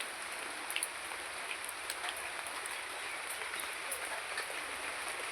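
Steady rain falls outside a house, a dense, even hiss with faint scattered drop taps throughout and no voices.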